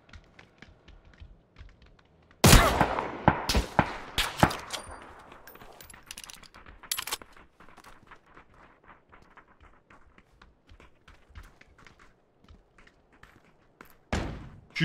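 Gunfire in the battle-royale game PUBG: a loud burst of rapid shots, then scattered single cracks and short volleys over background game noise, and another sharp burst near the end.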